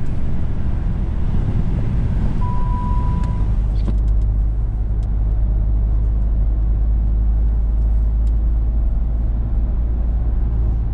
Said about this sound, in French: Donc j'accélère, je suis sur une route à accès réglementé.